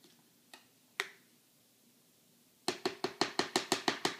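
A knife taps and pokes spinach down into a blender jar, a few sparse clicks at first, then a quick, regular run of about a dozen sharp knocks close by, with no talking.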